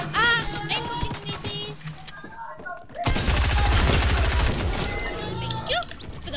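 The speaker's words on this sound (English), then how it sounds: "I just sniped someone." A sniper rifle firing in a video game: a loud burst of sharp, overlapping gunfire cracks mid-clip, with game sounds and brief speech around it.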